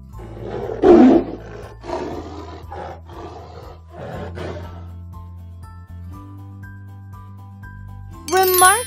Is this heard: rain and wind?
no